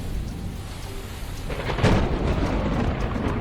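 A thunderstorm with rain at sea gives a steady wash of rain noise, then a louder rumble of thunder about midway that swells and holds under the continuing downpour.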